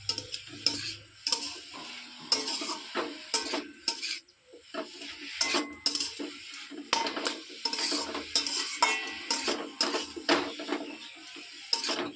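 A spoon scrapes and stirs ground cumin, coriander and turmeric in a pan for a Bengali moong dal and ash gourd ghonto, giving repeated close clinks and scrapes over a soft sizzle.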